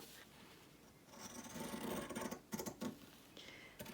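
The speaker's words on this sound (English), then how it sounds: "I think it would be nice to cut them out with the pinking shears." Pinking shears snip through Christmas fabric, a soft close rasping cut repeated in short uneven strokes, with a few sharper crisp snips near the end and no talking.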